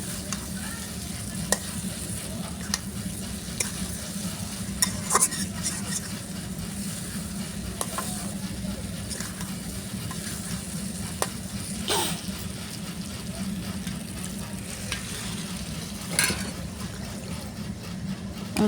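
Spicy chicken bhuna stir-fried in a pan, a continuous close sizzle with repeated scraping and clacking of the spatula at irregular intervals, steady and without talk.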